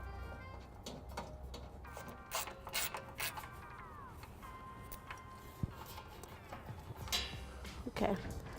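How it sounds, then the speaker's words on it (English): A socket wrench with an 8mm socket ratchets bolts out of a 2007 Ford Edge frame during a trailer hitch install, producing repeated bursts of quick metallic clicks close by, with other clanks mixed in. "I'll be using a socket wrench with an 8mm to remove the 3 bolts on each side."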